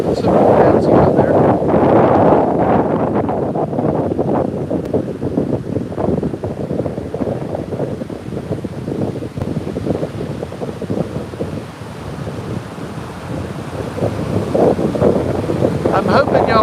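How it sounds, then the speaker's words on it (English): Ocean waves washing onto a beach under heavy gusting wind that buffets the microphone, a continuous loud roar with surges of surf, with a voice talking over it. "I'm hoping y'all are hearing the ocean too, or I don't know if the wind is taking over everything"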